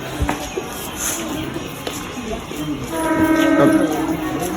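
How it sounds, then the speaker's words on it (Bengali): A train pulls into a station amid a busy platform, a steady rumble of cars and crowd noise building toward the end, where a sustained horn tone rises over the din. "ট্রেন আসছে ট্রেন আসছে"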